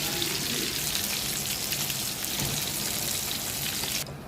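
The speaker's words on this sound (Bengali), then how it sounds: "মাছটা ভালো করে ভেজে নামিয়ে নিই" Pieces of rui fish frying in hot oil, a steady dense sizzle and crackle that stays loud and even throughout, close by with no talking.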